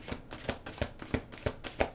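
A deck of angel cards being shuffled by hand, with a steady run of crisp riffling slaps about three times a second, close up and without speech.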